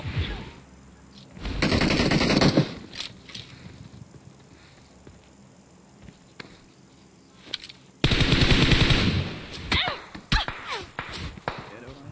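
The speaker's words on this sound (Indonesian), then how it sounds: "Dia tembak Rara yang baju tu" Loud video game gunfire comes in two long rapid bursts of automatic fire, each about a second or more, with scattered single shots and clatter between them and faint game noise underneath.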